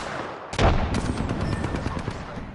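A frag grenade explodes in Apex Legends with a sudden loud, close blast, followed by a rumbling, crackling tail and scattered sharp impacts as the noise slowly fades.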